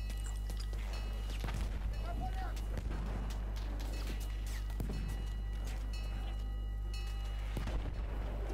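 Gunfire and explosive booms in the Battlefield 1 Rush multiplayer mode, several heavy loud bursts spaced through the clip over a steady low battlefield rumble, with speech present.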